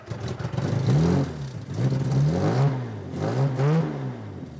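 A vintage Jaguar XK120 engine revs in repeated rising bursts, three or four swells of throttle close by with a rough mechanical edge, no talk.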